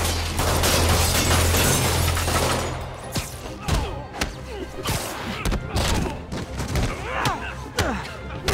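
Gunfire in a Spider-Man video game, a loud burst of rapid shots and heavy thuds at first, then scattered impacts, clatter and shouting voices.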